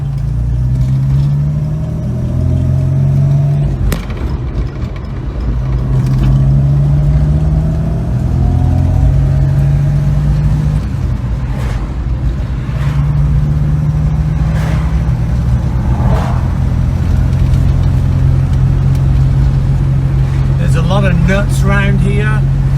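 A 1967 Volvo 122S Amazon Wagon cruises along open countryside roads, its engine humming steadily up close with shifts in pitch as it accelerates, while a person talks over it.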